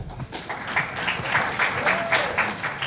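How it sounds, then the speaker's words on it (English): An audience at a medical technology talk gives a round of applause, moderately loud and dense, with a rhythmic, pulsing quality as a few claps stand out in the crowd. "So please welcome them with a round of applause."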